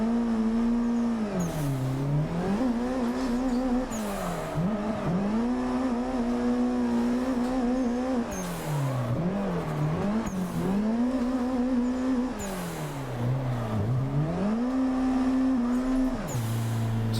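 Nissan S13 drifting in the Assetto Corsa racing game, its engine revving hard and rising and falling through long sliding corners with tire squeal, loud and continuous with no voices.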